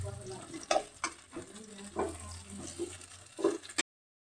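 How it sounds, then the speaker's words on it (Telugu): Bitter gourd curry with salt and chili is stirred firmly in a frying pan, giving soft scraping strokes and light sizzling, faint and close, with a voice speaking intermittently. "ఉప్పు కారం వేసుకున్న తర్వాత కొంచెం ఇలాగా గట్టిగా తిప్పాలి."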